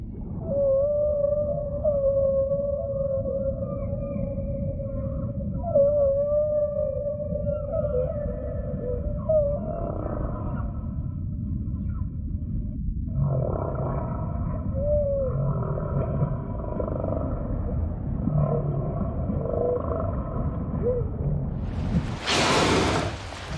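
A whale mother and her calf trade soft vocalizations underwater, with tonal moans and gentle calls running over a low ocean rumble, ending in a brief broadband burst.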